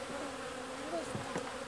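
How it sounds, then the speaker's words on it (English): Honey bees buzzing steadily around a hive during a spring check, a faint, continuous drone with a few louder passes as single bees fly near. "check this hive and see how these bees are doing"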